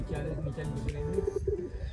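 Soft, throaty cooing of pigeons at their coop on a village farmhouse, close by, mixed with a low murmur of voices and background bustle.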